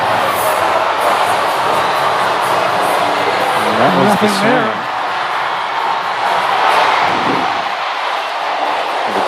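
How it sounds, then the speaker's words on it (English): An arena crowd at a Hawaii vs Stanford men's volleyball match roars and cheers steadily, reacting to games on the overhead big screen, with a dense wash of noise and a commentator's voice over it. "The crowd reacting to some of the games being played up on the big screen overhead."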